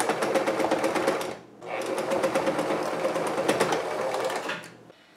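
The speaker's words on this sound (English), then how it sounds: "I'm gonna be sewing it here" A sewing machine stitches fabric for a medieval costume made from bedding, whirring in a rapid, close run that stops briefly, then starts again and runs before stopping.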